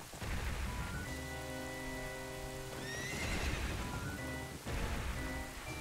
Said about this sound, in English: They're running away on a horse.